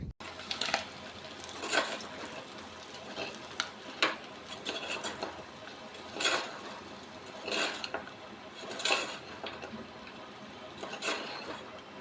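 Spices get stirred into a pot of country chicken curry, with repeated scraping and clinking of a utensil against the pot in an irregular rhythm of soft strokes.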